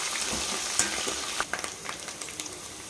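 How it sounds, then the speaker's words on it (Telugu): Onions sizzle and crackle in a hot pan for a Telugu beetroot and fresh coconut curry, a soft steady fry dotted with sharp pops and a few stirring scrapes, close and fairly quiet. "ఉల్లిపాయ వేగిందండి"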